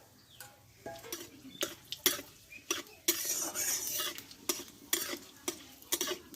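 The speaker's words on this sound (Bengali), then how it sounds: "এই তেলে দিব তিনটি শুকনো লঙ্কা আর দেবো একটা তেজপাতা আর কিছুটা দেবো কালো জিরে" Dried red chillies, a bay leaf and nigella seeds fry in oil in a pan for a radish greens dish, giving a close crackling sizzle broken by repeated spoon scrapes and clinks against the pan.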